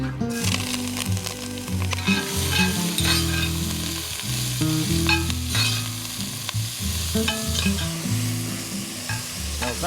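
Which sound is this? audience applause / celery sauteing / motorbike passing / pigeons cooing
celery sauteing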